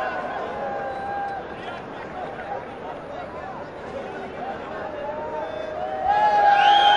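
A cricket crowd fills a Dubai stadium for an evening game with a steady murmur of chatter and babble, and a brighter swell of noise near the end.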